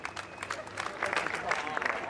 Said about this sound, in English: So a round of applause for Valtteri Bottas